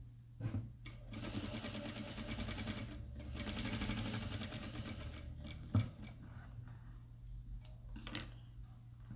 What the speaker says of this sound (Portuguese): Nós vamos costurar aqui